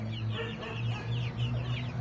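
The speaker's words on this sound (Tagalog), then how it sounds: "dito naman may alaga tayo. Mga manok." Chickens cluck in short, repeated calls at close range over a low steady hum, with no voices.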